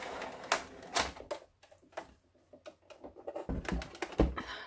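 A die cut machine works through glitter cardstock with a quick run of clicking, clattering mechanical taps, uneven and close, like typing on a keyboard, over a few seconds with no talking.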